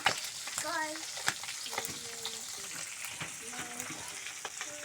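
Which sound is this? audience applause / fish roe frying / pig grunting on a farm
fish roe frying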